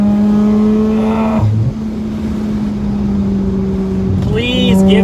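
A Mazda RX8 rotary engine holds a steady high-pitched drone, then drops briefly, and climbs back into a rising rev near the end, loud and close, with a voice talking over part of it.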